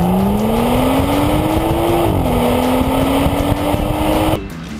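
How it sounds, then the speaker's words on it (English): A BMW engine revs hard and climbs in pitch, drops briefly at a quick dual-clutch upshift, then pulls again before cutting off, loud and close throughout. "Oh yeah, listen to the sound of that engine."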